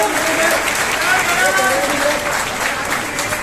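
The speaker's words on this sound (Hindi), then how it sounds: "तालियों में कोई कंजूसी नहीं।" A crowd claps at a government ceremony handing out house keys under the Pradhan Mantri Awas Yojana housing scheme, with a loud continuous patter of applause, a voice speaking over it through a PA.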